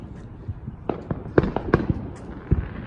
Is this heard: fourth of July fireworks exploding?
yes